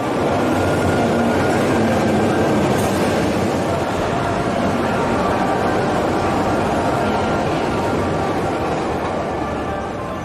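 A Pyongyang metro train in North Korea's deep subway roars steadily and loudly throughout, a dense, unbroken rumble of carriages running through the tunnel.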